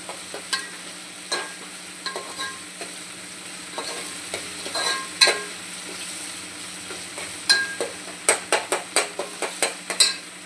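Spices and onion frying in oil in a home kitchen pan, a soft steady sizzle with scattered spatula taps that grow into a quick run of sharp clinks near the end, no voices.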